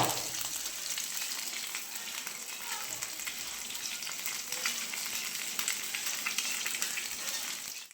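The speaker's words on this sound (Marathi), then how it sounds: "आता इथं आपल्याला मासे फ्राय करायचे आहेत रव्यामध्ये." Tilapia fish coated in semolina frying in hot oil, a steady dense sizzle and crackle running continuously and fairly quiet throughout.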